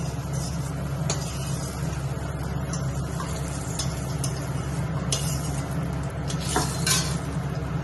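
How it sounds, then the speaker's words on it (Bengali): Potatoes frying in hot oil in a pan for a pointed gourd and soybean curry: a continuous close sizzle with occasional stirring scrapes and light utensil clinks. "এবার আলুটা লাল লাল করে ভেজে নেব"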